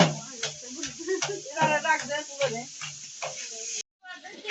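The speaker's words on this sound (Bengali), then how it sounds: "খিচুড়ি রান্নার জন্য এখানে পেঁয়াজ মরিচ দেওয়া হয়েছে এখন কষিয়ে নেব" Onions and chilies fry for khichuri in a pot over a village clay stove, sizzling and hissing steadily while a spoon scrapes and stirs, close by, with a voice talking over it.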